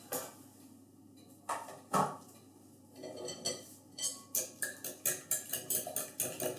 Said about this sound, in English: I'm just going to mix that in to this mixture.